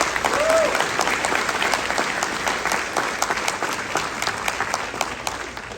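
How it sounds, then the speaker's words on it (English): A crowd at a Hmong American friendship celebration applauds for Congressman Jim Costa with steady, dense clapping and distinct nearby claps standing out, and a brief voice rising over it early on. "Congressman, please give him a round of applause."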